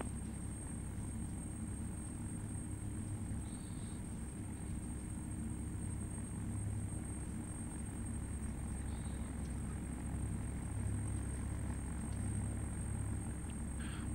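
A Premier 1 business jet sits on the runway in the Prepar3D v4 flight simulator, its engines a constant steady roar and high whine filling the whole stretch without pause.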